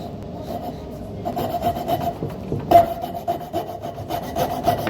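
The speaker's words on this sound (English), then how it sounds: "Now if we stick this in the vise, what let's do is chop the waste away" Chisel cutting away waste wood from a sash window joint held in a vise, a close, continuous rasping scrape with rough, uneven strokes and a sharper knock near the middle.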